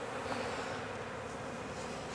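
Honeybee swarm being hived in Jacksonville, Florida, a continuous dense buzzing of many bees close by, steady and even with a faint high tone running through it, no voices.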